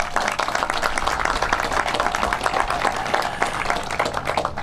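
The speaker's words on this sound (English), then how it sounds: "his two great commissioners, deserve a round of applause for continuing that investment." Outdoor crowd applause at a groundbreaking ceremony for a passive-house housing development in Humboldt Park, brisk clapping from a gathered audience, fairly loud and steady for several seconds.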